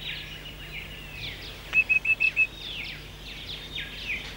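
Eastern rosella parrot calls in dry, open Australian woodland: a series of high, bright chirps and whistles at moderate distance, with one short burst of quick repeated notes in the middle, over a steady low hum.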